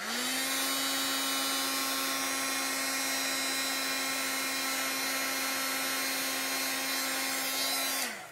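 A papercrafting heat tool drying ink blows with a steady, loud whirring hum and a fixed motor tone for about eight seconds, then cuts off.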